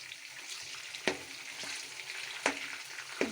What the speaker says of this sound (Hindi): ये देखें, अब हम इनको भून लेंगे।